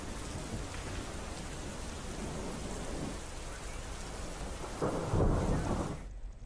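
Heavy wind and rain pour down steadily with rolling thunder, a loud rumbling surge near the end, during a storm over a rural area.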